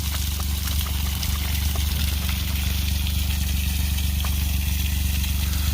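Water surging through an irrigation pipe toward a big gun sprinkler, heard alongside a steady, throbbing low engine drone and a continuous broadband rush of flow, loud and unbroken throughout with no talking.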